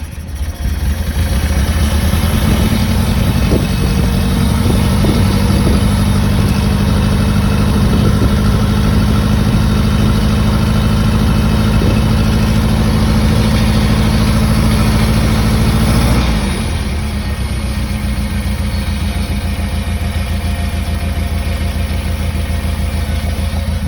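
A Satoh Bison 650G tractor engine fitted with a VW Beetle carburetor idles steadily and loudly up close, a constant low rumble that softens slightly near the end.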